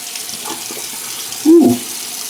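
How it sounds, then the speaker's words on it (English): Tap water runs briefly for a quick razor rinse during a wet shave, a short mid-level splash and flow lasting about a second with near room tone around it. "I'm just going to do a quick rinse."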